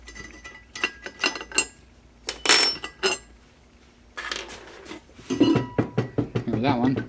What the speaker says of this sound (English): Now I get my set of sockets, so you could take this off.